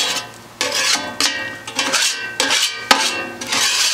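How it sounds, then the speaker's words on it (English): A metal scraper works across a Blackstone portable griddle after cooking walleye fillets, a series of about seven rasping metallic strokes in an uneven rhythm, close and fairly loud, with no talk. "Scrape this off a little bit."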